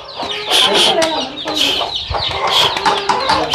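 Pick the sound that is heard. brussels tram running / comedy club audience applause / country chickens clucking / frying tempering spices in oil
country chickens clucking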